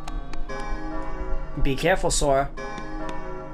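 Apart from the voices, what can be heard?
bell ringing in the video game Kingdom Hearts Chain of Memories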